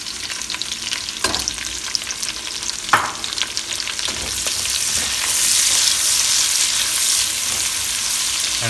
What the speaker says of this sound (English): we're gonna use this fat now for cooking our onion and garlic